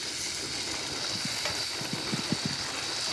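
Tomatoes sizzle as they go into a pan after onions for a Bengali fish curry, a steady soft frying hiss with a few stirring knocks near the end, fairly quiet and without talk.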